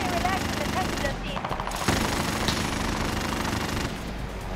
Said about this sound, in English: Oh, I'm getting shot from the air tower.